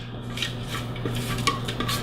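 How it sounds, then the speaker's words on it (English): A spatula scrapes the inside of a food processor bowl holding a pecan and avocado filling, giving a series of close scraping and clinking strokes with no talking. "I'm gonna have to scrape this out really good so that I don't get any pecans in my smooth avocado filling."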